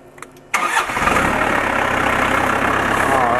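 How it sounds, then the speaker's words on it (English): Tractor engine cranking and catching, then settling into a loud, steady, close idle rumble that continues to the end, after a few faint clicks. "So let me get the tractor started here as soon as I get the key put back into it."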